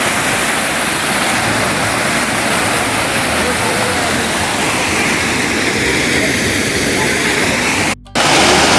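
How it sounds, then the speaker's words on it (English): Dudh-Dhara waterfall on the Narmada at Amarkantak, a steady loud roar of falling water that fills the scene without a break, nearby, broken only by one very brief dropout near the end. "now I'm standing in front of the Dudh-Dhara waterfall, which is 200 meters downstream from Kapil-Dhara waterfall"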